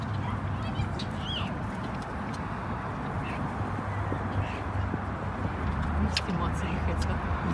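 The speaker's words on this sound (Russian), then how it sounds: "Вот так вот я сегодня кормлю птичек." Birds, probably ducks, being fed, giving faint scattered calls and squawks over a steady outdoor rumble, with someone talking to them throughout.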